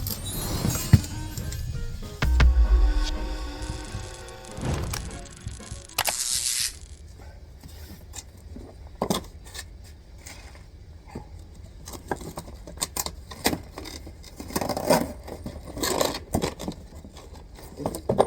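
Metallic clinks, light taps and scrapes from hand work on the clutch slave cylinder of a MAN TGX truck with an automatic gearbox, scattered and irregular at close range, with no talk.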